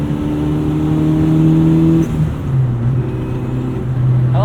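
A 2005 VW Jetta GLI with a 1.8-litre turbo engine and an aftermarket blow-off valve idles and revs nearby, with a loud steady engine drone that dips and shifts pitch partway through.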